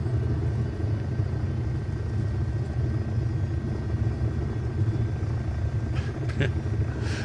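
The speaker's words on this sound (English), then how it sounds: "There's our startup sound with engine 2." In the MSFS 2024 flight simulator, engine 2 of a Bo-105 helicopter spins up as a steady low turbine rumble with a faint high whine, followed near the end by a few brief clicks.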